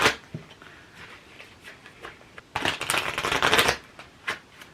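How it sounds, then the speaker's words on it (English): Tarot cards are shuffled in a burst of rapid riffling, preceded and followed by scattered soft taps and slides of the deck, close and alone. "I'm shuffling them in a really weird way."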